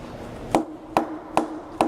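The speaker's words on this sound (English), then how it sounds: "So if I can have the hammer and I give this thing a nice tap into the vise" A hammer taps a metal workpiece down into a milling machine vise, four evenly spaced, sharp knocks ringing close and clear over a steady shop hum.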